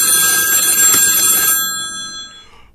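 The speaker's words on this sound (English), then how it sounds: "Ring ring, pick it up phone" A telephone rings with a bright, jangling bell tone for about a second and a half, then fades out. It is loud and close, with no voices.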